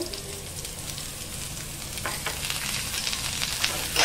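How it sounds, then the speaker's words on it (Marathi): Onion and garlic frying in about two spoons of oil, a steady soft sizzle with light stirring scrapes throughout. "आता आपण कांदा आणि लसूण भाजून घेऊया। त्यात आपण ना 2 चमचे तेल टाकायचं आहे।"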